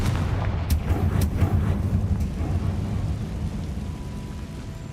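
Confringo blasting spells in Hogwarts Legacy go off as heavy, booming explosions with deep rumbling low end, several quick blasts near the start decaying into a long roaring tail.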